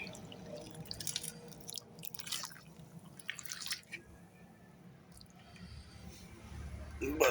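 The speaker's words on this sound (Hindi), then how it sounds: "गर्म पानी, थोड़ा सा बस ये खरल में डाल दे ताकि खरल साफ हो जाए" Hot water is poured into a mortar to rinse it, giving uneven dripping, splashing and wet squishing sounds that come and go across several seconds, fairly quiet and close, with no speech during it.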